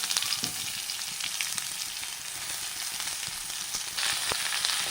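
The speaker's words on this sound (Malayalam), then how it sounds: "ഇനി നമുക്ക് രണ്ട് സവാള അരിഞ്ഞത് അതിലേക്ക് ഇട്ട് കൊടുക്കാം" Two chopped onions hit hot oil already browning green chillies, curry leaves and shallots for an egg roast, giving a steady, close, bright sizzle throughout with no talking.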